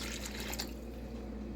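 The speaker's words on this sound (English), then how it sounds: "Add a little more water." Water pours into a large pan of gravy for smothered cubed steak, giving a soft, steady splashing trickle. It is faint and close, with no talking.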